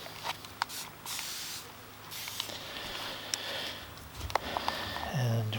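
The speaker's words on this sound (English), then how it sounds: "I'll just get a little spray here." A hand spray bottle mists water onto a wet watercolour painting being made outdoors at Loch Duich, with several short, soft hissing spritzes up close among quiet background sounds.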